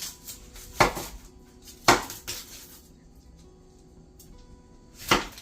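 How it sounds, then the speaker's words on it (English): A knife chops tomatoes and onions on a board in a home kitchen, with a few distinct, widely spaced cuts over a quiet background. "is Princeton cutting the tomatoes and the onions that we're going to be blending"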